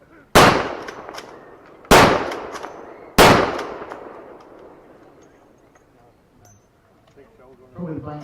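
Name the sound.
1940s weapon firing blank ammunition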